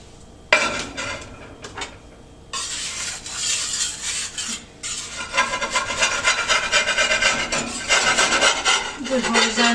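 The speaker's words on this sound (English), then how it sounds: "I do tend to take a spatula just to loosen it" A spatula scrapes and rubs against a pan to loosen pizza dough, a loud close rasping that runs almost continuously in repeated strokes after a brief quiet start.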